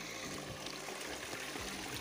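Water trickles and splashes steadily from the stone spouts of a seven-spouted temple fountain, a continuous close wash of running water with no voices.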